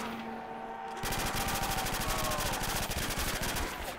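Rapid gunfire in a Call of Duty custom zombies map, heard as a fast, steady stream of sharp shots starting after a second of quieter game ambience.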